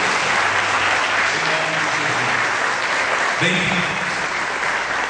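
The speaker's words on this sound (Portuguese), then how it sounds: "Vamos aplaudir a Deus." A church congregation claps continuously and loudly while a voice speaks briefly in Portuguese over the applause.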